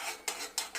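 Semolina pulao being stirred in a pot, three quick scraping strokes of a spoon against the metal in under a second, close and fairly soft with no talking.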